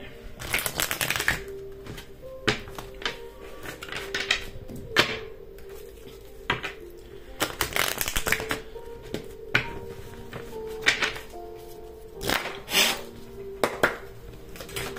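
A deck of cards is shuffled repeatedly for cartomancy, bursts of riffling and cascading card slaps alternating with brief pauses, close and crisp, with a faint low voice at times.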